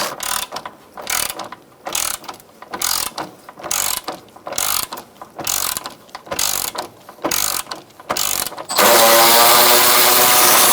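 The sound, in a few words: 10mm socket ratchet removing support bracket bolts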